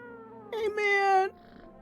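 A cat meows twice in the video game No, I'm Not a Human: a short mew, then a longer drawn-out meow, clear and close over a quiet background hum.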